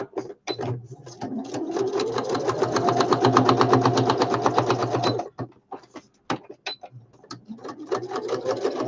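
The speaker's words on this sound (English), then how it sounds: "So let me just stitch that in." A sewing machine stitches paper woodland-themed ephemera pieces for a journal, running in a long steady mechanical burst of rapid needle strokes, then pausing and restarting in short stop-start runs, close and fairly loud.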